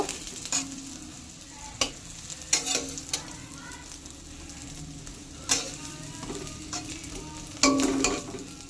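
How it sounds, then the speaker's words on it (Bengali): Fish roe paturi wrapped in pumpkin leaves fries in a pan, a quiet steady sizzle broken by several sharp clacks and scrapes of a spatula turning the parcels, close with no talk. "আবারও ঢাকনাটা খুলে ভালো করে উল্টে পাল্টে ভেজে নেব"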